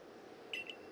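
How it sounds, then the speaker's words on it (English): The ARC phone in the video game Pokémon Legends: Arceus gives two quick, faint electronic beeps over a low, soft background hum. "Our ARC phone is beeping?"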